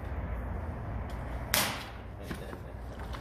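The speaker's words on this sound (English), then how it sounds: "I gotta give you the bottle slap" A hand slaps a bottle of AMSOIL synthetic motor oil once, a single sharp, fairly close smack rising above steady background hiss, followed by a fainter second tap.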